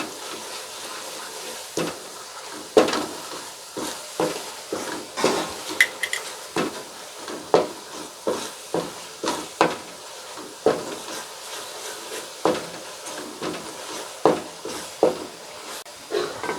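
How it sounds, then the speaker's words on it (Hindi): Ground coriander and spices roasting in a karahi for chicken white karahi, with a rhythmic run of spoon scrapes and clanks against the metal over a soft sizzle, close and steady, with no talk. "इसको भून लेंगे 2 से 3 मिनट।"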